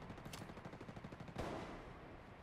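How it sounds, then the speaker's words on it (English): A video game firefight of heavy gunfire: a quick, even rattle of muffled automatic shots is followed by one louder, booming blast that rings out and fades. The whole passage stays fairly faint, with no voices. "Taking heavy fire."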